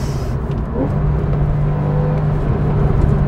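A Porsche Carrera engine pulls hard out of a corner, a loud, steady, rising drone heard from inside the car with no talking.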